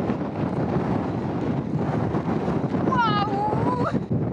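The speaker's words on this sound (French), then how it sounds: "Tellement il y a du vent, je suis pas sûr qu'on nous entende" Strong wind blasts and buffets a microphone outdoors on the Piton de la Fournaise volcano on Réunion, a dense steady roar filling the whole clip, with a brief whistling tone near the end.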